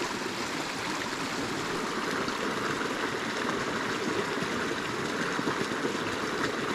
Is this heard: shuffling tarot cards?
no